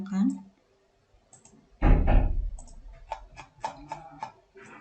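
Computer mouse clicks come in a quick cluster of sharp, light taps after a short burst of talking, used while copying and pasting.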